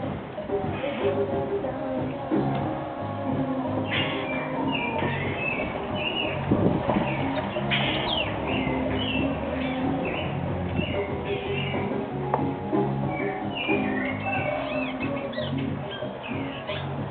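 A bare-throated bellbird (araponga) gives repeated short, ringing calls at irregular intervals, moderately distant, over a constant layer of background noise.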